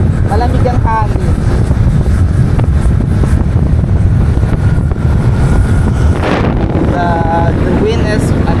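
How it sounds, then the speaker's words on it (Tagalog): Wind buffets the microphone in a steady broadband roar on the road to Tagaytay, constant and close, with a voice speaking intermittently over it. "Malamig. Malamig ang hangin."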